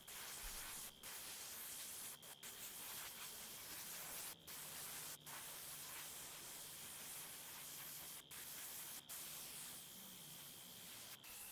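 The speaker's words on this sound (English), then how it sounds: "To get to the color that I like, I use an airbrush as well." An airbrush sprays dye onto leather pieces of a bag, giving a steady close hiss that runs continuously with a few brief breaks where the trigger is released.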